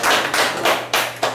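Hands clap together in a steady, even rhythm at a Buddhist meeting room session in Busan, with loud, close bursts roughly every third of a second.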